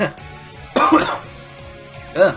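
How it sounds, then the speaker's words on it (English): A few harsh coughs: a short burst near the start, a louder fit in the middle, and another brief cough at the end, close to the microphone. "Coughing a lot today, aren't I?"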